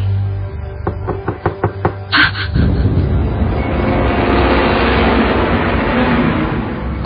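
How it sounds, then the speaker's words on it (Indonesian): Someone knocks on a door in a rapid series of about six sharp raps, followed by a heavy thump. A loud, continuous rumbling roar then takes over and drowns the scene. "ku dengar suara ketukan pintu itu lagi"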